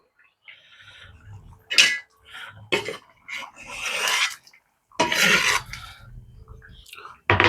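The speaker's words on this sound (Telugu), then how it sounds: "చూడండి ఫ్రెండ్స్, టమాటా అనేది యాడ్ చేస్తున్నా." Tomatoes tipped into a pan for a tomato dal and stirred, giving scraping and rasping strokes of a spoon against the pan in short bursts, close and fairly loud, with quiet gaps between.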